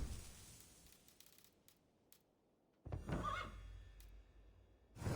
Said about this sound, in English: Looks like an Irish horse, no?